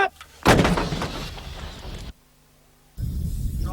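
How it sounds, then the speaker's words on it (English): A field gun fires an airburst round: one loud, close blast with a long rumbling decay, a brief quiet gap, then noisy outdoor rumble returns. "This field gun is being used to fire airburst ammunition"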